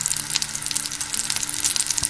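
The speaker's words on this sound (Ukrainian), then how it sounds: "Під кришкою смажимо по 5-7 хвилин з кожного боку до золотистої скоринки." Steady crackling sizzle of egg-dipped lavash rolls frying in a hot covered pan, loud and close, with constant popping of oil.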